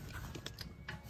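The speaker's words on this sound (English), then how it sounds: "Jack it right up into place." Mechanical ratcheting and creaking of a jack lifting a front strut into place on a 2009 Toyota Camry, a few short clicks and scrapes, close and fairly quiet, with no talking.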